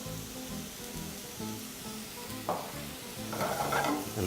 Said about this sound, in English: And proceed to toss everything together in your pan